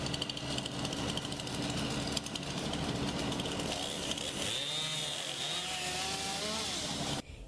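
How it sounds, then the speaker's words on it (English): Chainsaws and leaf blowers run steadily as crews clear tornado damage in Bamberg, a continuous droning engine whine that stays loud throughout and rises in pitch partway through. "you can hear leaf blowers and chainsaws as crews are cleaning up the mess from a tornado"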